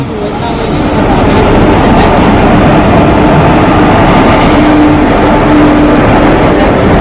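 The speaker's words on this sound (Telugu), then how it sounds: "సికింద్రాబాద్ గౌహతి వీక్లీ ఎక్స్ప్రెస్ వచ్చేసింది మన ట్రైన్." A heavy, steady rumble of the Secunderabad–Guwahati Weekly Express rolling into the platform close by, loud and continuous after a brief quieter start, with faint voices under the noise.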